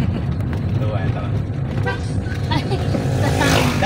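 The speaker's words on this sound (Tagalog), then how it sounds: "Late kasi minsan ang supply nung ano, ng busina. Pitada ang dalawa." A Suzuki Swift automatic's horn toots briefly during a driving lesson, short bursts rising over steady road and engine rumble from inside the car while voices talk throughout.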